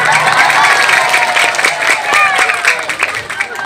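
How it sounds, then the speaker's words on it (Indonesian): An audience at a Sundanese religious lecture breaks into applause, a loud, steady wash of many hands clapping mixed with crowd voices and some cheering throughout. "Tepuk tangan lu kabehan"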